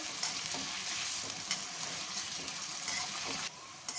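Potatoes frying in oil in a pan over a medium flame for aloo gobi, giving a steady, dense sizzle that runs unbroken and close throughout, with no voices.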